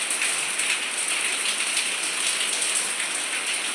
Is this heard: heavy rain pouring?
yes